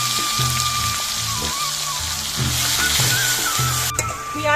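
Onion paste sizzling and frying in hot oil with whole cumin tempering spices in a village kitchen, a steady loud crackling hiss with periodic stirring scrapes throughout.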